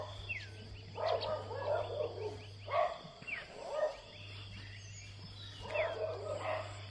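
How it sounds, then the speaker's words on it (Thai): A dog barks repeatedly at close range on a roadside stop in northern Thailand, sharp bursts coming in irregular clusters over a steady low hum. "โอ้น้องเห่าเยอะเลยเห่าอยู่ใกล้เลย"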